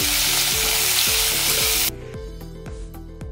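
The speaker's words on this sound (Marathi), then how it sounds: "शेवगा परतून झाला आहे" Drumstick pods (shevga) sautéing in a hot pan with salt and turmeric, a loud steady sizzle that abruptly drops to a quieter crackle partway through.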